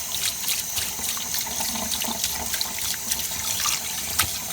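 Cold tap water running into a bowl to rinse chicken liver, a steady close splashing stream with bubbling and sloshing as the water fills and swirls around the meat.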